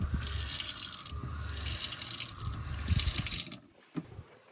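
Hot water pours steadily from a tap in a van bathroom for a shower, a continuous rushing splash that stops near the end, leaving a few faint drips.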